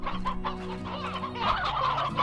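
Chickens in the video game Slime Rancher clucking in quick repeated bursts, close and clear with a low game hum underneath.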